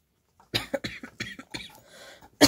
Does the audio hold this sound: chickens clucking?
no